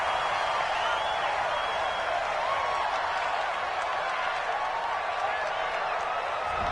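A home crowd at a football game roars and applauds steadily throughout, a dense far-off cheer with a commentator talking over it.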